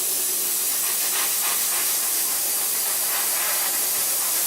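Steady, loud hiss of an airbrush spraying gloss acrylic paint close up onto an Eduard B-24 scale model, continuous with slight pulsing and no talking.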